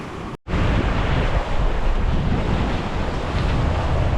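Sailboat Quetzal running at 10 knots on a solo Atlantic crossing from Guatemala to France, with a steady roaring rush of waves and hull wash. Heavy wind buffets the microphone throughout, broken only by a brief dropout near the start.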